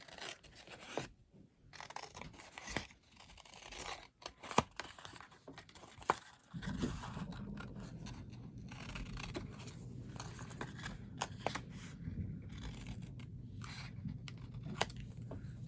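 Scissors cutting through a paper popsicle box template, giving a close series of crisp snips and crinkling paper rustles, steady and unbroken, with a low background hum in the second half.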